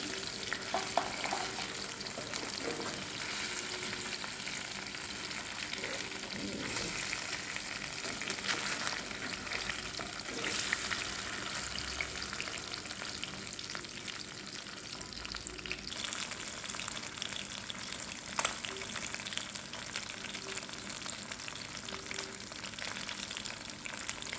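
Fish fry sizzles steadily in a pan of hot oil for a Sunday fish recipe, a dense continuous crackle with occasional soft scrapes and knocks as the pieces are flipped from side to side.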